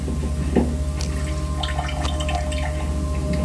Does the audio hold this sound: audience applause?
no